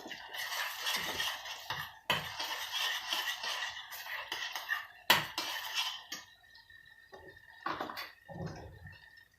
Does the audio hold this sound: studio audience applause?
no